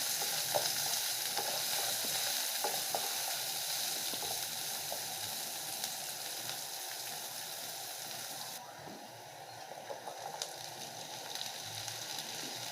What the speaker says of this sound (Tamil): இப்போ கட் பண்ணி வச்ச ஒரு வெங்காயம் ஆட் பண்ணிக்கோங்க. அதோடு சேர்த்து நல்லா கலரி விடுங்க.